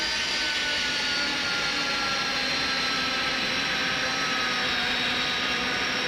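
An Airbus A300 taxis in a flight simulator game, its jet engines holding a loud, steady whine and rumble throughout with no speech.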